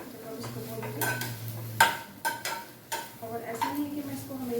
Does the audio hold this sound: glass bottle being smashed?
no